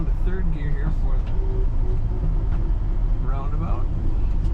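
A 1954 Ford F100 pickup's engine drones low and steady while driving and shifting into third gear, with someone talking over it throughout.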